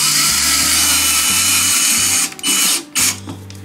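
A power drill drives deep-threaded drywall screws into a wall while a monitor mount is installed, a loud close motor whir in short stuttering bursts of changing speed that stops briefly near the end.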